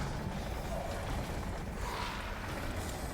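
Machines grinding and clanking in Resident Evil Village, a dense, steady rumble of mechanical churning with faint creaks running the whole time.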